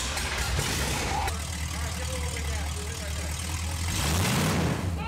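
Dodge Charger, left undriven for 35 years, cranks and fires, then settles into a deep, rough idle heard close by, with a brief louder rev near the end and people talking over it.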